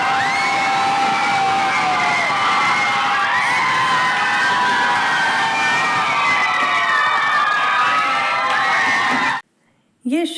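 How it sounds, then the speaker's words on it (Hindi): Children in a classroom cheer, hoot and shout all at once in a loud, echoing din that runs unbroken for about nine seconds, then cuts out abruptly before a brief burst returns. "कितनी ज़्यादा हूटिंग चल रही है"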